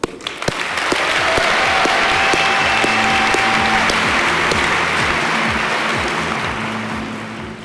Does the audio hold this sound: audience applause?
yes